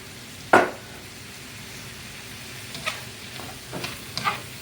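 Onions and vegetables frying in a pan, a steady soft sizzle broken by a sharp scrape near the start and a few lighter stirring scrapes later, close and without talk.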